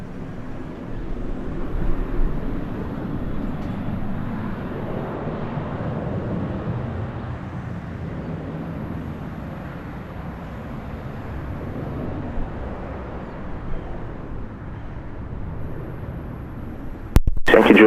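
A JetBlue airliner taking off from runway 07 at Sangster airport in Jamaica, its engines a broad, steady rumbling roar heard from a distance that holds throughout without fading.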